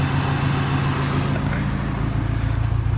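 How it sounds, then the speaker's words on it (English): A Ford Ranger pickup's engine idles steadily up close, a low, even rumble made a little louder by a damaged exhaust, with no talking. "it'll start idling like this"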